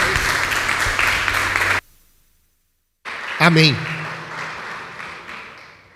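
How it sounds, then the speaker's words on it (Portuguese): Church congregation applauding loudly, the clapping cut off abruptly into near silence, then resuming more softly alongside a brief spoken word and a ringing tone. "Aplauda bem forte o Senhor."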